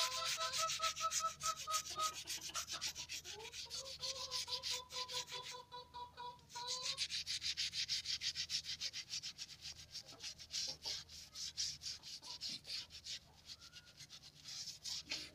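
A keris blade is scrubbed clean with coconut fiber, making continuous rough, rhythmic rubbing strokes that sound close and scratchy, with brief pauses between passes and a faint tone under the first half.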